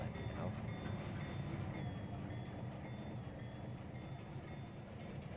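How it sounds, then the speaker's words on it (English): Model railroad train running on a Conrail-themed layout, a steady continuous rumble of wheels and motor throughout, fairly constant in level with no talk over it. "we're gonna raise the volume a little bit, just so you can hear a bit more of the train sounds"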